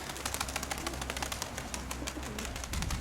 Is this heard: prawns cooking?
no